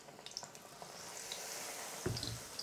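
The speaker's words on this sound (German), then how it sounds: "Hier brutzelt's." Apple rings fry in a pan as batter-coated slices sizzle with a soft, steady crackle, faint and close, with a brief clink near the end.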